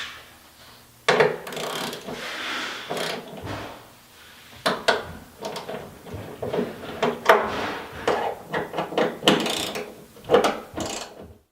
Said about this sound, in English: Now we'll torque the bolts to 18 foot-pounds.